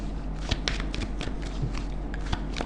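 Tarot cards are shuffled by hand up close, a quick run of soft papery riffles and flicks with sharper snaps scattered through a few seconds, quiet and alone.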